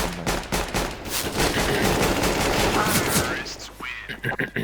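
Rapid gunfire from the Counter-Strike map Inferno, a dense string of loud shots under talking voices, thinning out toward the end.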